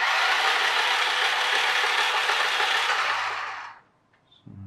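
A New Bright Hummer H3 40 MHz radio-controlled toy car whirs with a steady, fairly loud electric motor and gear buzz that cuts off abruptly near the end, followed by faint handling noises.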